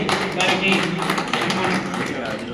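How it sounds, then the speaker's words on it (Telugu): Loud, sustained applause from an audience at a BJP Emergency protest day gathering in Shadnagar, a dense crackle of clapping filling the whole stretch without a break. "గట్టిగా చప్పట్లు"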